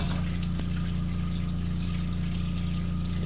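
Sweet potatoes are rinsed under running tap water in a kitchen, a steady close gush with a faint underlying hum lasting the whole moment and no voices.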